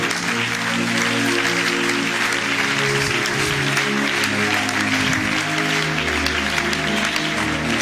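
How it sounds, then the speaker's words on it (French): A church congregation applauds steadily to acclaim God, a dense, loud, continuous wash of clapping from many hands throughout, with a sustained musical tone underneath. "Je peux acclamer Dieu, acclamer Dieu."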